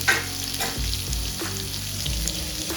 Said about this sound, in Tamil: இப்போ அதோட நம்ம நீல வாக்கில் கட் பண்ண வெங்காயம் 2 போட்டு தாளிச்சிட்டோம்